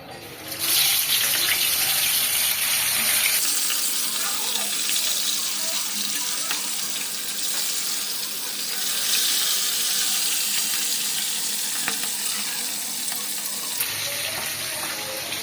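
Fish slides into hot oil and sets off a loud, dense hissing sizzle that holds steady for many seconds before easing, heard close up with no clear talk over it.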